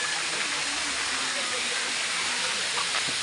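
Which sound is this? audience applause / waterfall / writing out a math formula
waterfall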